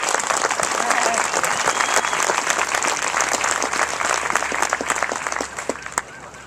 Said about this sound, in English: So give yourself a round of applause as well for all that you've done.